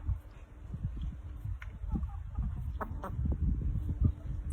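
A hen at Camp McDowell clucks softly and repeatedly at close range, the low, uneven clucks mingling with handling noise and outdoor background sound.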